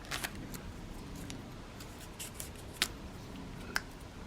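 An MRE jam packet being cut open up close, faint snips and crinkles of plastic film with a couple of sharper clicks over quiet background, no talking.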